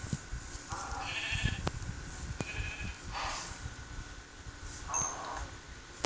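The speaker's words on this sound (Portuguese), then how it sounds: "Pega a ovelha também, que ela dá a carne." Sheep in the Minecraft video game bleat several times in short, quavering calls spaced a second or two apart, over a light background of game clicks and footsteps.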